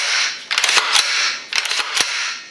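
Function check of an HK MR762A1 rifle, with two sharp metallic clicks of the trigger and action in quick succession, a short pause, then two more, close up against a steady background hiss.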